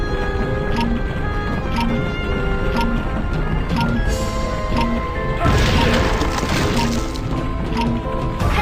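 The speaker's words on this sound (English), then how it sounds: "The ceiling's totally coming down!" A ceiling caves in within the Ben 10 Ultimate Alien Cosmic Destruction game, with splintering wooden cracks and crashing debris layered over rhythmic game music, building to a denser rumbling collapse toward the end.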